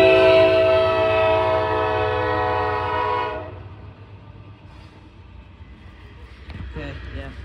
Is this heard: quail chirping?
no